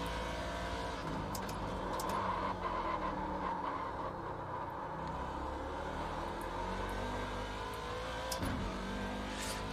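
Chevrolet Corvette C7 race car engine in iRacing at Daytona, a steady loud drone held throughout with engine tones sliding gradually, joined by faint brief higher noises near the end.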